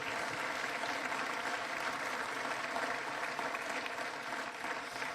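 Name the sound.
audience applause at a mayor's breakfast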